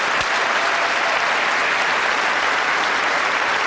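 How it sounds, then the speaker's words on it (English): A studio audience at a live paranormal television broadcast gives loud, dense, continuous applause that fills the whole moment without letting up. "Give them some applause."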